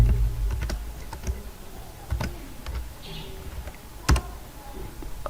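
Close, clattering keystrokes on a computer keyboard while a code comment is typed for a CSS transitions lesson, coming in irregular bursts with sharp louder clicks and short pauses, and no talking.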